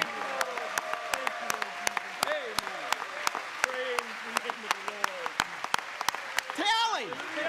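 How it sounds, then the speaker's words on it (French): A church congregation claps in a steady rhythm of sharp, regular hand claps while someone speaks and sings over them, rising into an emphatic vocal exclamation near the end. "Donnez au Seigneur une bonne main d'applaudissement."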